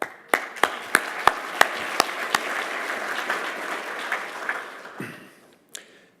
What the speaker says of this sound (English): you can applaud for yourself.